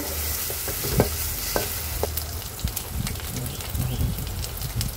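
Cow head brain with ginger and garlic paste is stirred in a hot pan, a steady sizzling hiss with irregular scrapes and soft knocks of the spoon against the metal.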